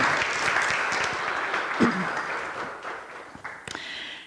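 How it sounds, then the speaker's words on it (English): An audience at a motivational church service claps steadily, a dense wash of applause that gradually fades, with a brief voice partway through. "we need one more round of applause for our brave and courageous, spontaneous introducer"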